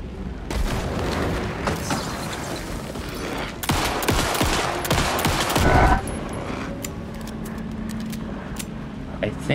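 Gunfire in the video game Alan Wake 2: a loud, close burst of rapid shots with booms and clatter, then sparser shots and effects, with a voice speaking in places.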